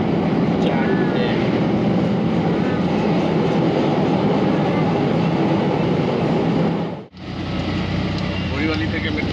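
Metro train ride, a constant loud rumble of wheels and carriage noise with a brief sharp dropout near the end, while people talk over it.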